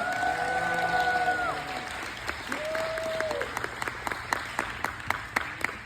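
Audience applause for someone at an evening fundraiser event for a new building, a crowd clapping steadily that fades into scattered individual claps while a voice speaks over the start.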